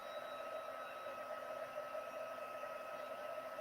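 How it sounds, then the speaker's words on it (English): Heat embossing tool blowing hot air to melt embossing powder on a card, a steady whirring blower hum with a faint tonal whine, quiet and continuous. "we're just going to move the heat slowly over each of the images"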